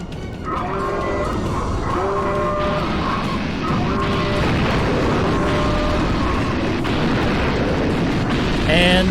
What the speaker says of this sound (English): there's a whole elaborate explosion animation where the boss blows up